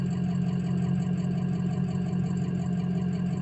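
A warmed-up Ford 6.0 diesel truck engine idles close by, a steady low throbbing clatter that stays even and unbroken throughout.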